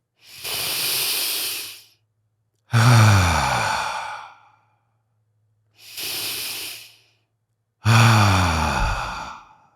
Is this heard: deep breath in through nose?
yes